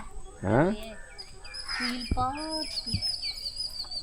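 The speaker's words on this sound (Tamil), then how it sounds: "பறவைகள் சத்தம் எப்படி இருக்கு? கேட்க நல்லா தான் இருக்கு." Birds call around a village in the Western Ghats, with a clucking, fowl-like call near the start and thinner chirps scattered through the remaining seconds over a quiet outdoor background.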